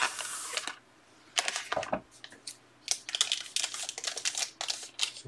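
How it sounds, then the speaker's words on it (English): Crisp snipping and crinkling of plastic card-pack wrappers cut open with scissors, several short bursts of cutting with brief pauses between, close by. "Scissors."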